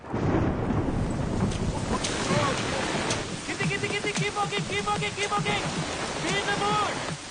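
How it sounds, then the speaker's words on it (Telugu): Rain patters down while thunder rumbles through a stormy sky, and people talk over the downpour. "బ్రో వర్షం పడేలా ఉంది బ్రో. ఇంకే ఫ్రీగా రెయిన్ ఎఫెక్ట్ కూడా వాడుకోవచ్చు."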